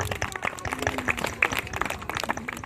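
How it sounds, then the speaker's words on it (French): An outdoor audience at a pigeon show in Parc du Petit Prince applauds the participants of a pigeon race with dense, continuous clapping from many hands, moderately distant and lasting the whole moment. "On les applaudit."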